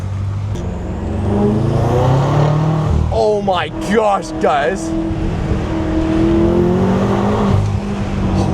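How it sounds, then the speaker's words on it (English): A modified BMW M5's engine roars steadily and revs up as it accelerates, loud and close, exhaust and intake audible, while someone speaks excitedly over it. "I can't get over the fact how good the exhaust sounds, how good the intake sounds."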